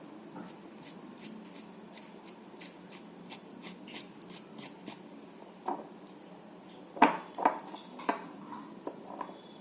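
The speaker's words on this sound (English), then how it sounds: "This is aluminium foil." Aluminium foil crinkles and rustles softly in the hands for several seconds, with a few sharper crackling bursts near the end, used as a household item for making texture on a canvas.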